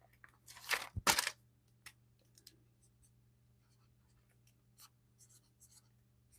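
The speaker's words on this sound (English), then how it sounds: "let me write these numbers down." Pen or pencil scratching numbers onto paper by hand, two short bursts of writing strokes close by near the start, followed by near silence with faint scattered rustles.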